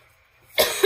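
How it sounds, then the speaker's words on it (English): A single sharp cough bursts out near the end after near silence, loud and close with a brief second push. "Excuse me with my coughing."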